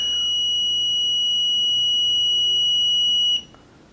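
Steady high-pitched continuity beep from a multimeter probing the L1 and L2 terminals of an electric motor, held loud and unbroken for over three seconds before cutting off abruptly into quiet room noise.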